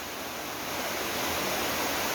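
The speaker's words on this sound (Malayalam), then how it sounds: "മുകളിൽ നിന്ന് ഇങ്ങനെ വെള്ളം ഒഴുകി വരുന്ന സ്ഥലമാണ്" Water pours down at Anjukuzhi waterfall, giving a continuous, even hiss and rush that stays fairly soft and constant with no other sounds on top.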